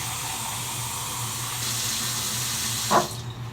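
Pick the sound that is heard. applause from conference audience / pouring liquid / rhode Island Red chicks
pouring liquid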